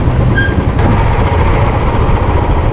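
A Royal Enfield Bullet motorcycle pulls away in first gear, its engine giving a loud, close, continuous low thumping rumble with a rough, throbbing texture that stays steady throughout, with no voices.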